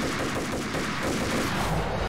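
Rapid, sustained gunfire from a weapon in the video game Max Payne, dense overlapping shots filling the whole stretch at a steady loud level before cutting off abruptly.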